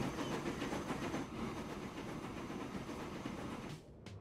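A train runs in the Transport Fever 2 video game, a steady rumbling roll with rhythmic clickety-clack from the wagons, moderately loud and continuous before briefly cutting off near the end, with no voices.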